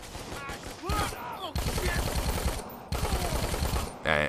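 Rapid automatic gunfire from shooting zombies in Dead Rising 4 on Xbox Series X, dense bursts of rattling shots in two long stretches with brief gaps, loud and close, under occasional game sounds.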